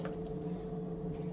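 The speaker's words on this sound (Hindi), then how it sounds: "इसमें हम थोड़ी सी पानी ऐड करेंगे," Water, about half a cup, poured into a vegetable handi gravy cooking in a pot, a steady splashing trickle with a dripping tap-like quality running continuously at close range with no voices.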